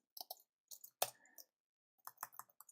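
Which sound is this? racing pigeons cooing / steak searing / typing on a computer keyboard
typing on a computer keyboard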